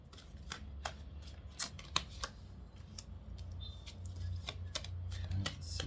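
Tarot cards shuffled by hand in a quiet room, a series of soft crisp flicks and riffles spread irregularly across the stretch over a steady low background hum.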